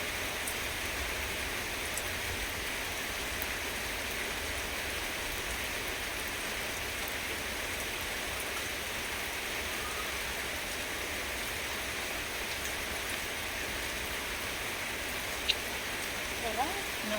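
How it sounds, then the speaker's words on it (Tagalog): Steady, dense rain falls close around, a constant even hiss of drops on surfaces with no break, plus a few faint clicks near the end. "I am now enjoying the rain."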